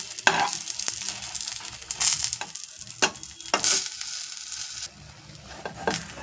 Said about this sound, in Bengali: এখানে বেগুন অলমোস্ট ভাজা হয়ে গেছে